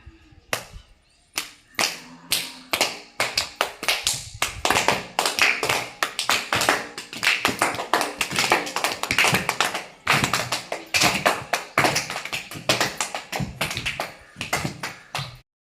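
Children clap in time while playing a hopping game on squares in a temple courtyard, with sharp, close claps in quick pairs and runs that keep a steady rhythm from start to finish.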